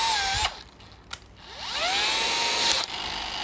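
A cordless power drill with a hammer function and a 5.2 Ah battery runs loud and steady, its whine rising and shifting speed, with brief pauses and restarts and no talking.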